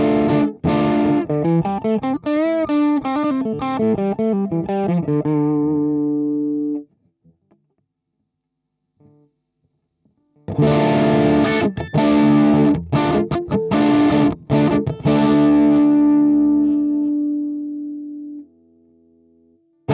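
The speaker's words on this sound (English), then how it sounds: "if I turn gain slightly up, well, it's nothing but clean sound, it's more like overdriven sound." An electric guitar played through an AMT Brick X Vox-style preamp with the gain turned up gives a lightly overdriven tone, strummed chords ringing out, then a pause, then a second run of chords and picked notes that fades away.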